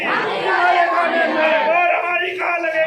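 A crowd cheers and chants loudly at a political campaign rally for a BSP candidate in Farrukhabad, with dense overlapping voices close by throughout.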